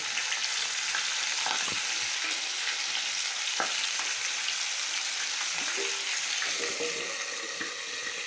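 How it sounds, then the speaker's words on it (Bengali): Boal fish heads fry in hot oil in a pan, a dense, steady, hissing sizzle with scattered pops and light clicks of a utensil, close up and without talk. "এখন মাছের মাথাগুলোকে ভেজে নেব"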